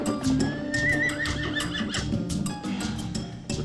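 A horse whinnies in a long, wavering call while hooves clip-clop steadily beneath it, close and fairly loud, with no talking.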